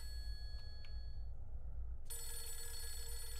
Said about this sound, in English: I hear that phone ringing